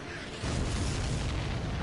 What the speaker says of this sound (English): The missile hit the supply ship dead on.